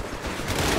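Gunfire from soldiers in the video game Company of Heroes 3, a short burst of rapid, overlapping shots forming a dense crackling volley that builds slightly in loudness.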